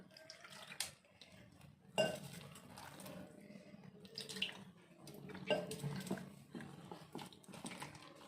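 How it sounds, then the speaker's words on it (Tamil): Water is poured into sathumavu multigrain flour in a bowl and stirred into a batter for paniyaram. The quiet, close sounds include soft sloshing, scraping and occasional clinks of the utensil against the vessel. "இதில் கொஞ்சம் தண்ணி ஊற்றிக்கலாம்"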